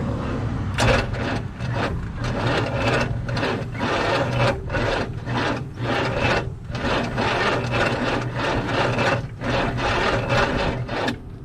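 A starter motor cranks the engine of a 1962 Chevrolet C10 truck with a weak battery in a steady, rapid rhythmic churn, loud and close, continuing throughout without the engine catching.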